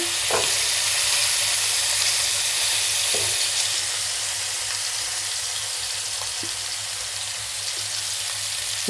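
Fish pieces sizzle steadily in hot frying oil, a close, continuous crackling hiss with occasional small pops, no voices present.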